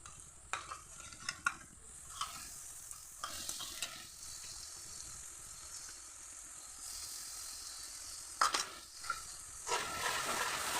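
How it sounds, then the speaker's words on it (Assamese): Masala frying in oil in a pan hisses steadily while a spoon scrapes and stirs it in intermittent bursts, the sizzle swelling louder near the end. "এতিয়া মছলাখিনি একদম তেল যেতিয়ালৈকে নেৰে তেতিয়ালৈকে এইখিনি ভাজি থাকিম।"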